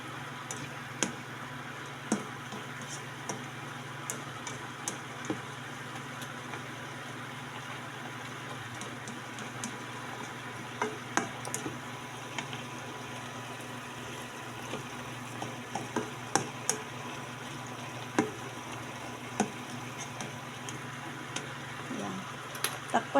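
Beef steak pieces simmering in a covered pot with the liquid boiling down, a steady low bubbling hiss punctuated by scattered small ticks and pops throughout, fairly close.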